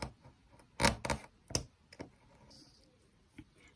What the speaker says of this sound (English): I'm going to cut a line there.